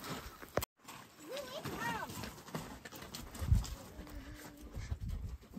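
Hooves of a stallion being ridden clip-clop unevenly at a walk, moderately close, under intermittent talk and a few background sounds.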